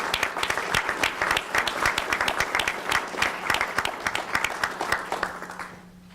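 A room full of people at a public safety forum gives a round of applause, dense, distinct claps at moderate loudness fading out toward the end.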